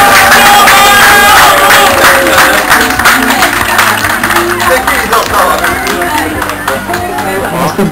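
Crowd at a forest rally prize draw clapping and cheering for the winners, loud dense applause with shouts that tapers gradually, a voice speaking over it.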